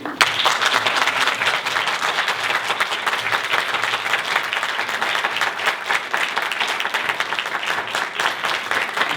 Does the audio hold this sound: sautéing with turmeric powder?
no